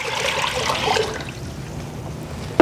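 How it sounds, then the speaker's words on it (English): Lukewarm water pours steadily into a Taylor by Frigomat GX2 frozen dessert machine for a rinse, a close, continuous splashing trickle that eases off toward the end, with no talking. "we still want to rinse it, so we're going to take some lukewarm water."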